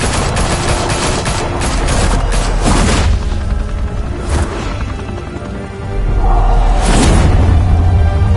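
Loud, dense bursts of gunfire and heavy booms in a Batman video game, a rapid fusillade of shots with a short lull before a second volley, with no talking.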